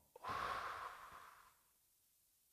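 One deep breath: a quick sharp intake followed by a long, soft exhale that fades out over about a second in a quiet room.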